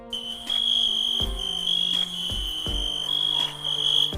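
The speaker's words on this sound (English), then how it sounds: "You must have heard many times during the night that insects make a special kind of sound like" Night insects, crickets among them, keep up a continuous high-pitched chirping trill, steady and moderately near, while faint low thumps and background noise come and go beneath it.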